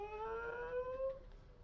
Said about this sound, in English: I can still hear the jet engine